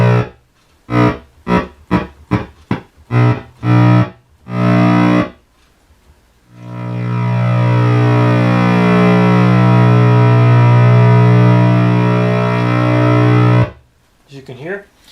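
A restored R.A. Moog Minimoog synthesizer plays a rapid series of short staccato notes, then one rich, buzzy sustained tone held steadily for several seconds before cutting off, followed by a few more short notes.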